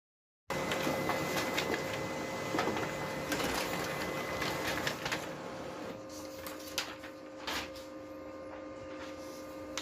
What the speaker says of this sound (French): c'est un problème dans mon imprimante quand je mets le papier manuel